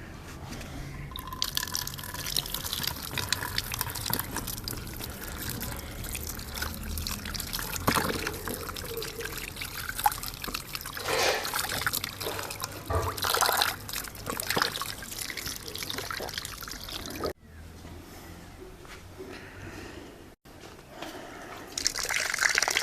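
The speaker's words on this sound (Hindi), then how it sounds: "सबसे पहले हम सेबों को धो लेंगे।" Tap water runs and trickles steadily while apples are washed for apple halwa, a continuous splashing wash with brief dips near the end.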